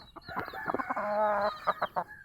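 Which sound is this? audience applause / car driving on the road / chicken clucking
chicken clucking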